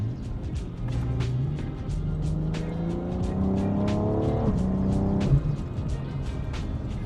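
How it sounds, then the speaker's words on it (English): BMW F98 X4M with an Akrapovic slip-on exhaust, 200-cell downpipe and resonator delete, in Sport Plus mode: a loud, continuous six-cylinder exhaust drone that climbs steadily in pitch as the car accelerates through a gear, then drops off sharply. "The car is now in Sport Plus mode, and you can hear the exhaust a lot better"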